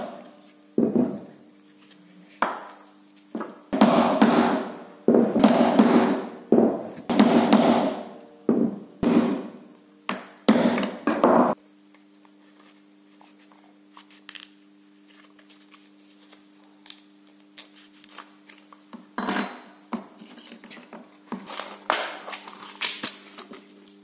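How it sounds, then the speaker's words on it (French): Riveting a leather sheath for a miniature karambit knife: clusters of sharp taps and knocks come in quick bursts, then a long quiet stretch with a steady hum, and later scattered lighter taps. "je décolle, je pose mes rivets, d'abord je perce les trous et ensuite je vais poser mes rivets"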